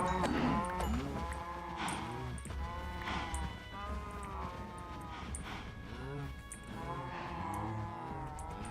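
Cattle lowing in Minecraft, several drawn-out moos overlapping at a steady pace against a continuous background of in-game ambience and music, fairly loud with no voices.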